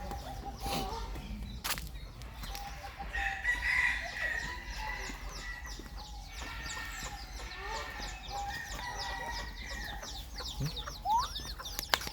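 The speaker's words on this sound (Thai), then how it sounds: "มีไก่ตัวเล็กๆด้วยนะเห็นไหมไก่ตัวเย็กๆ" Small chickens cluck and a rooster crows among bird cages, with scattered clucks and short calls over steady background noise, fairly faint and at a moderate distance.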